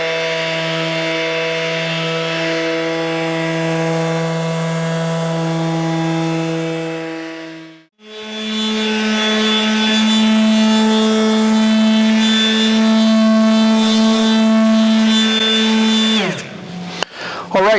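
Power tool buffing rust off a cast-iron table saw top, a steady loud whine with strong harmonic hum, briefly cutting out around midway before resuming and stopping near the end.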